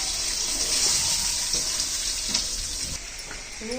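Onions sizzle and crackle steadily in hot oil and ghee for chicken biryani, a loud, continuous fry with a few faint clinks of a spoon and no voices.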